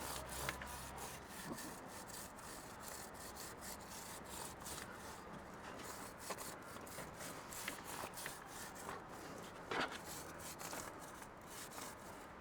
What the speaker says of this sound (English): now what you do is you get your brush and then give it a bit of a scrub